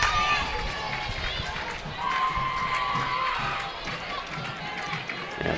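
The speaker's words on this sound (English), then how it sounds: "the dugout making some noise. They got the crowd to make some noise." Softball crowd and dugout noise at a Michigan versus Indiana college game: a steady wash of cheering and shouting voices fills the stands throughout, with a commentator talking over it.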